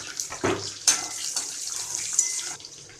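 Chili and curry leaves fry in hot oil for upma, giving a steady close sizzle with a few sharper crackles and spatters.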